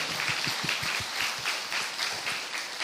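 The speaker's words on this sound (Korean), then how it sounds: "우리 다시 한번 큰 박수로 우리 주님의 부활을 찬양합시다" Church congregation applauding together at an Easter Sunday service, a dense, steady wash of many hands clapping throughout, fairly close and continuous with no voices standing out.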